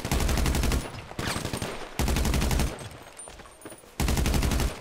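Bursts of automatic gunfire from GTA 5 fire in three long rapid strings of shots, loud and close, separated by brief gaps with background game noise.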